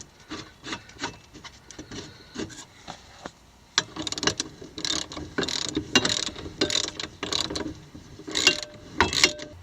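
Ratchet wrench working a shock absorber bolt on a car during an Air Lift 1000 air bag install, with repeated close clicking and rasping strokes, sparse at first and then faster and louder.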